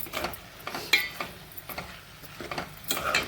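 Salt being stirred into a white brinjal and tomato curry in a pan, heard as soft repeated scraping and clinking strokes of a spoon over a low simmering hiss.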